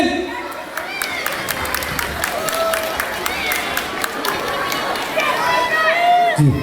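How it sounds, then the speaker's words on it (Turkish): Guests at a wedding reception at Boğaziçi Yaşam Merkezi give strong applause, a dense, sustained wash of clapping and crowd noise that continues for several seconds, with voices mixed in. "bir güçlü alkış gelsin"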